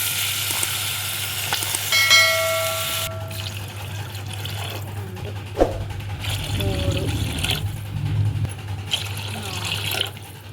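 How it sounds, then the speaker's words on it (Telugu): Water gushes and splashes into a pan of hot masala for prawn biryani, followed by a steady simmering hiss, with some clattering and a voice speaking over it. "ఇది అయిపోయిందండి, వాటర్ వేసేస్తాము"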